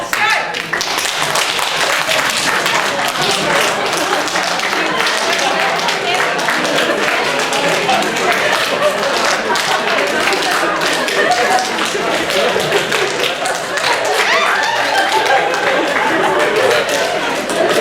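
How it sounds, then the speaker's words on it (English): Hands clap rapidly and repeatedly during a group exercise at an Art of Living workshop, sharp close claps running almost without pause over a background of room chatter and movement. "you're going to basically clap your hands"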